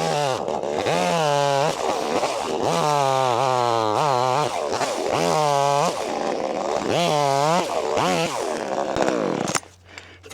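A cheap $100 chainsaw revs up and down repeatedly with a loud, close, whining engine note. It rises and falls in surges before cutting off near the end.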